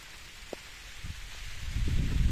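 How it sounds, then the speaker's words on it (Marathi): Rain falls in a passing shower, starting faint and growing into a louder, close hiss of drops, with a few isolated taps early on. "तर असे ढग येत आहे मधून मधून आणि लगेच पाऊस येतोय."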